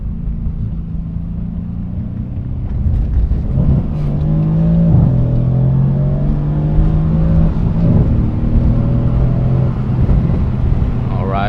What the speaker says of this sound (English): I'll give you a little first gear pull.